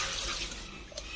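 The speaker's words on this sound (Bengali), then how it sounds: "ডিমগুলো একটু ধুয়ে নিচ্ছি" Eggs are rinsed under running water, a brief close splash and trickle with a small drip near the end.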